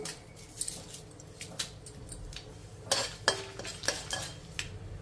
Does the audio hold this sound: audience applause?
no